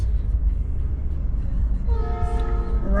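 A train rumbles past at a crossing, its low steady roar joined partway through by a loud, sustained multi-tone horn blast that carries to the end.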